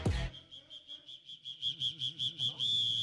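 A high whistle-like tone holds steady and then pulses in a quick repeating warble during a Brazilian rap battle. It follows a brief thump, is faint and near, and grows steadier and stronger toward the end.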